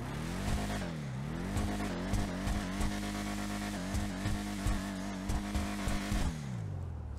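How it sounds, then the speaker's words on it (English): The Declasse Tulip car engine in GTA Online revs repeatedly, its pitch climbing and falling in steady surges, loud and close with a deep rumbling tone throughout. "Let's take a listen to what the Tulip actually sounds like."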